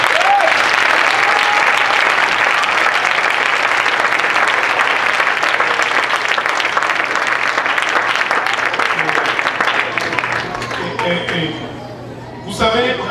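A church congregation applauds its mothers, sustained dense clapping filling the room for about ten seconds before thinning and fading out near the end.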